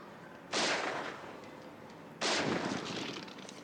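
Two loud gunshots go off in a video game, about a second and a half apart, each a sharp crack with a long rolling echo tail.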